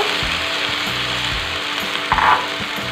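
Chopped cabbage tossed into a hot frying pan for a rice box nasi gila dish, a steady sizzle with scraping and clattering of the spatula and a brief louder burst near the end.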